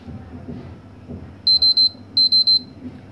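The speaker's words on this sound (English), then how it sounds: "six beeps mean it is overheating now" Two quick bursts of three high electronic beeps each from a PS3 Slim console warning of overheating, six beeps in all, sharp and loud over a low hum.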